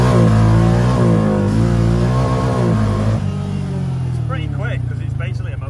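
Petrol-powered buggy, a wide quad-like vehicle, revving loudly at close range, its engine note climbing and falling before settling into a rough idle, with people talking over it.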